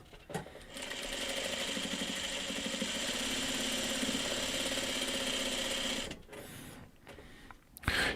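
A sewing machine runs steadily for about six seconds, a fast even mechanical whir and clatter, then stops, leaving a few faint handling clicks and a short knock at the end.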